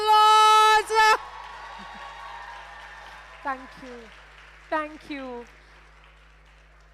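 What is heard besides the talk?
audience applause and cheering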